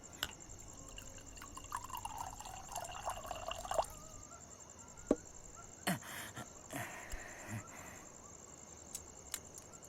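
English liquor is poured into a glass: a trickling pour whose pitch climbs for a few seconds as the glass fills, then a few scattered drips and clinks over a quiet background hiss.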